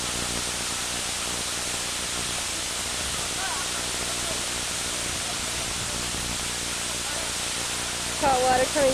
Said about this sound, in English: So Tony, under the falls, these are the hot springs, and there's quite a lot of pressure actually.